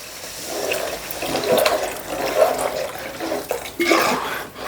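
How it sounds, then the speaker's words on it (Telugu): Water poured into a pan of fish curry made with mango, giving a splashing, gurgling pour in uneven bursts that swells near the end, close and moderately loud with no talk. "ఇప్పుడు ఇలా కొన్ని వాటర్ వేసుకోవాలి"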